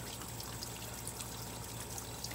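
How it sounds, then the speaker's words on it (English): Water steadily overflowing from a container, a continuous pouring trickle that runs unbroken throughout, fairly close with no talk. "it's just going to keep on overflowing"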